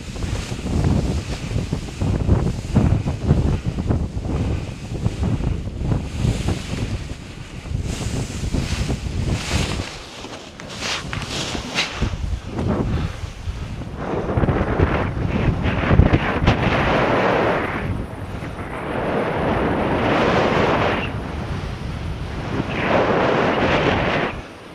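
Wind sweeps across a mountain paragliding launch site, loud, gusty rushing and microphone buffeting that rises and falls in waves throughout.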